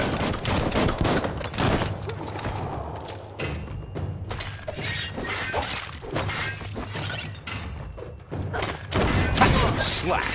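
Gunfire in the Biomutant video game, with a chaotic barrage of rapid shots, sharp cracks and shattering impacts piled densely together over a continuous low rumble.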